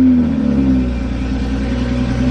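A Toyota Supra's engine drones steadily while driving, with a close, even mid-pitched hum that holds a constant tone, without any talking.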